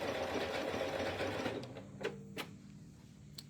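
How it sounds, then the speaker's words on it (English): A Janome MC 9450 sewing machine stitches around an applique with a fast, even mechanical whir for about a second and a half, then stops, followed by a few soft clicks and taps. "now I can sew more around my applique"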